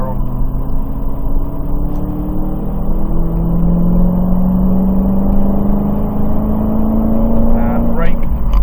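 A Dodge Challenger Hellcat accelerating under power, its engine note climbing steadily and loud from inside the car, with a continuous rumbling drone throughout.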